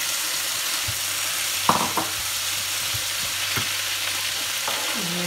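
Onions and tomatoes fry in a pan with a steady loud sizzle, broken by a few sharp scraping stirs and clinks, with no one talking.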